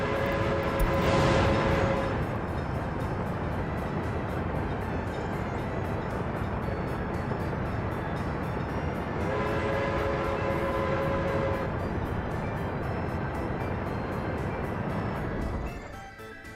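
Train rolling in the Workers and Resources simulation game, a loud continuous rumble of wheels and cars on track with two long horn blasts, alone without talk.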